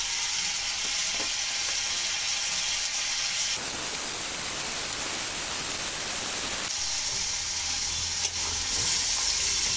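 Salt, turmeric, chili powder, cumin and coriander powder fry in oil in a pan for a chicken and new potato curry, a steady close sizzle that thins out briefly midway, with no talking.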